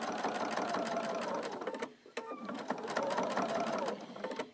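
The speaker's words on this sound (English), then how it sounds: "Here I am, almost to the corner, and I'm going to continue sewing." A sewing machine stitches binding onto a quilt in a steady, loud, continuous whir, pausing briefly near the corner before running again.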